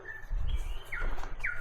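Bird in wet, mossy New Zealand bush gives a few thin, sweeping chirps spaced apart over a steady low rumble of background noise.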